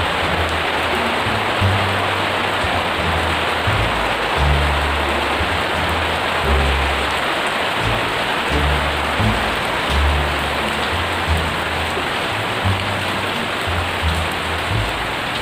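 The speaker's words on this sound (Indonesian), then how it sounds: "ini lagi hujan jadi suaranya lebih sama hujan" Steady rain falls throughout, a dense continuous hiss of drops on surfaces with low rumbling patter, heard alone with no voices.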